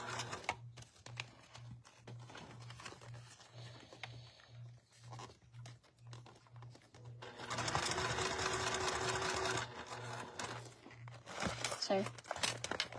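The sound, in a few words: sewing machine top-stitching a clear vinyl cube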